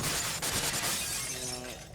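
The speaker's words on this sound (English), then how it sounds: "I'm breaking glass because it's fun." Glass shattering in Halo: Combat Evolved, a loud crash with bright scattering shards, followed by tinkling debris and a faint ringing tail as it settles.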